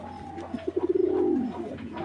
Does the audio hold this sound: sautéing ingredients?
no